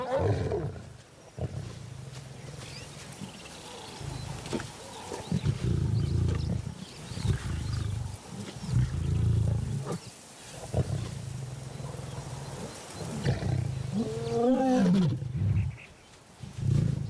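Lions give deep, rumbling roars in the wild around a lone lioness and an intruding male, with a run of low grunting calls rising and falling and a sharper series of throaty roars near the end.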